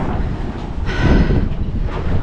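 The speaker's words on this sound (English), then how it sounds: "I'm just realizing it's very windy right now" Strong wind buffets a microphone beside a boat hull being readied for launch, a loud rumbling roar that surges in gusts across the whole stretch.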